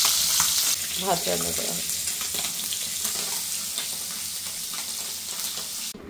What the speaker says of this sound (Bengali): এখানে এই যে কই মাছ ভেজে নিচ্ছি, দেশি কই